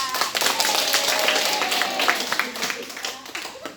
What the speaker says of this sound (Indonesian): Kita beri tepuk tangan dulu untuk Ika